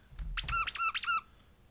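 Squeaky paws in the Phasmophobia video game: three quick, rubbery, rising-and-falling squeaks in a row, loud and close, over a soft low thump and no talk.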